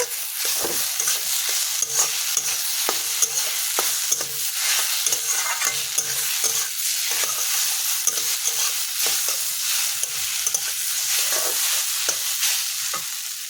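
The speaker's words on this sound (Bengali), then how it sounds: "আমি নেড়ে চেড়ে ভেজে নিয়েছি।" Dry-roasted ground cumin and coriander being stirred and fried in a pan for a vegetarian papaya ghonto, with steady sizzling and frequent scraping clicks of the spoon against the pan, close and continuous.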